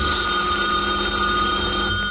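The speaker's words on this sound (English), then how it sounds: "Robert Gardner is just leaving for the office as the phone rings." A telephone bell rings continuously in a 1948 old-time radio drama, a steady electric trill with a faint background hiss and no talk.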